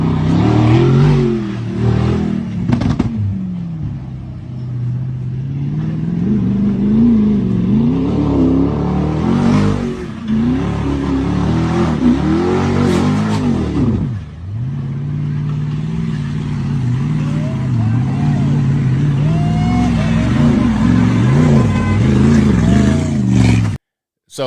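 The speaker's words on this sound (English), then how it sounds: "when I hear the engine purr, it's a beautiful sound" Mercedes G-Wagon engine revving loudly, rising and falling in repeated pulls with a whirring tone, close and dominant throughout before a sudden cut at the end.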